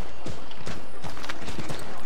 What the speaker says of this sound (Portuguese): Cavalo preto mais legal.